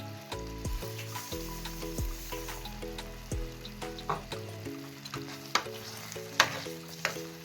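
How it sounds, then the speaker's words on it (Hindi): Sugar being stirred into semolina halwa in a pan: repeated soft scrapes and knocks of a spoon over a low sizzle, with steady background music throughout. "अब इस टाइम पर हमने इसमें चीनी को मिक्स करना है"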